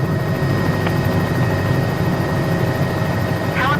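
Simulated Bell 206 helicopter in flight, a steady droning rotor and engine hum that runs loud and unbroken throughout, with a faint chirp near the end.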